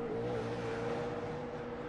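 A NASCAR Cup Series race car holds a loud, sustained engine whine at Watkins Glen road course, pitch sliding slightly as it works through a corner, with no talk over it.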